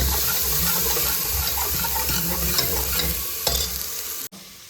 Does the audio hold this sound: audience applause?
no